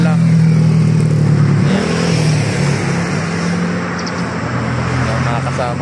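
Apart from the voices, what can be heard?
group of six motorcycles riding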